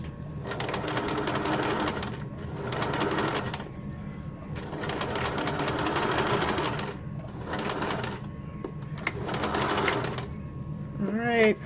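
Sewing machine stitching bookbag straps, running in several long bursts of steady rapid whirring separated by brief pauses, close and loud, with a faint cooing bird in the background near the end.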